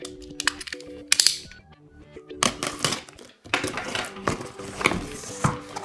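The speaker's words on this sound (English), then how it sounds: "we'll need to open the box" Unboxing a WORX WX045 9-piece cordless drill set: sharp cardboard clicks, snaps and rustles come in scattered bursts at close range, with brief quiet gaps between them.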